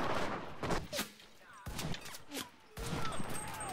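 Gunfire in the World War II shooter Enlisted: several sharp, crashing shots spaced irregularly across the stretch, moderately loud over a busy, noisy battlefield background.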